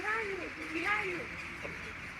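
A flock of birds at sunset near the Eiffel bridge in Timisoara gives wavering honking and quacking calls at mid-distance, steady and continuous, with people talking over them.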